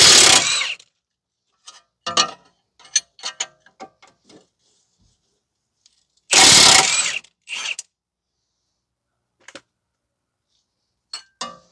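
Ratchet wrench with a 22 mm socket turning a bolt during steering knuckle replacement on a 2010 Toyota Corolla 1.8, giving short bursts of clicking ratchet strokes separated by pauses, close and fairly loud in a quiet garage.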